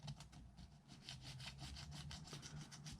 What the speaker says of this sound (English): And then I also like to use a Stanley blade across a mating surface.